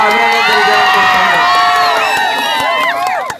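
A crowd shouts and cheers for a film unit, a loud mass of whoops and high excited voices with scattered clapping, fading at the end.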